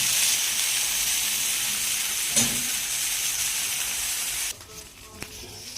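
Hawawshi cooking in a pan over a lit flame, sizzling with a steady, close hiss that runs unbroken, plus a brief clatter near the end.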